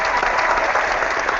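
A short burst of canned applause from an applause-button sound effect, dense steady clapping at even loudness from start to finish.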